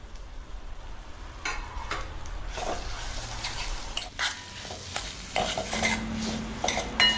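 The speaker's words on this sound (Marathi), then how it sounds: "मालवणी मसाला जळू नये ना म्हणून मग लगेच मी त्याच्यात गोडा मसाला घातला." Malvani and goda masala with a bay leaf sizzle in hot oil, the pan giving a steady low frying hiss, with scattered spoon scrapes and stirring clinks against the pot close by. Nobody speaks.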